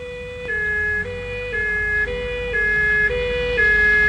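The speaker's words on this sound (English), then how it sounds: "Sound all warning systems." A loud two-tone warning siren wails continuously, alternating between a high and a low pitch about every half second, close and steady.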